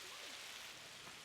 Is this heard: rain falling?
yes